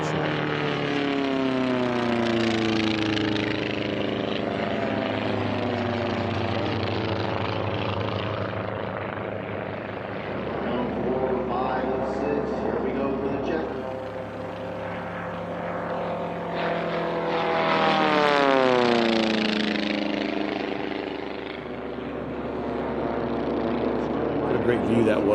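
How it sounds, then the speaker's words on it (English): Formula 1 class racing propeller planes roar past at an air race, a loud buzzing drone that swells, fades and rises again with pitch sweeping as they pass, heard under continuous commentator talk. "One last time around here for our leader as he just passed Scott Holmes in Outlaw, the red aircraft"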